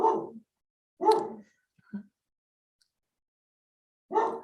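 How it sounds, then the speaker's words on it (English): A dog barks three times in short, separate bursts with quiet gaps between, moderately near, the last bark coming after a longer pause. "I'm just pausing because my dog's barking."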